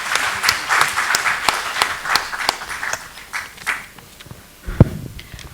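An audience at a national GST conference applauds after a speech, a burst of close, lively clapping that thins out toward the end, ending with a single thump.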